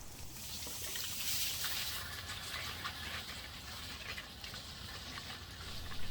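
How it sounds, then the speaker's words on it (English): Compressed air from an air compressor forces water out of a greenhouse irrigation system through an inserted valve, making a continuous hissing, gushing rush at moderate, fairly steady loudness. "as soon as this valve is inserted, it will begin to flush the water out the irrigation system"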